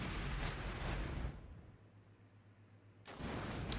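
Tank cannon fire in the Armored Brigade war game: a loud, roaring blast fades into a low rumbling lull before another heavy blast erupts.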